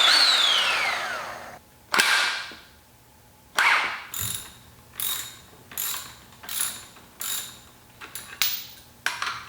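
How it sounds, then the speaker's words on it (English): An impact wrench works on a car's coilover suspension during an install on an 8th-generation Honda Civic, firing in a series of about eight short, rattling bursts separated by brief pauses, close and fairly loud. "So time to go on the big gun, the impact wrench."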